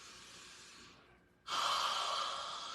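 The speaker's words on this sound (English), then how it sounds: "I want you to take 3 breaths." During a full-body stretching session, a long, deep breath drawn in softly and then released as a strong, airy exhale, close and clear, with no talking over it.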